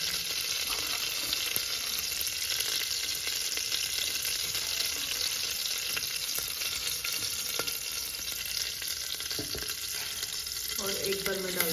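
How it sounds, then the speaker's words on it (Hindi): Potato and cauliflower fry with cumin seeds in a pan, giving a dense, constant sizzle and crackle throughout with occasional spoon scrapes, close and fairly even in level. "आलू गोभी हो गई है फ्राई, और इसमें मैंने डाल दिया जीरा।"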